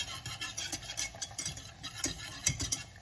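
Lemon juice being stirred into a pan makes a soft, quiet scraping and gentle stirring patter, continuous for a few seconds.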